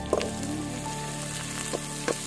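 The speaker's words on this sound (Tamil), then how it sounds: "எண்ணெய் காஞ்சதுக்கு அப்புறம் பெருஞ்சீரகம், அடுத்து வெங்காயம் போடணும்." Onions and fennel seeds going into hot oil for a village-style snail fry, giving a steady close sizzle throughout with a few brief louder crackles as pieces hit the oil.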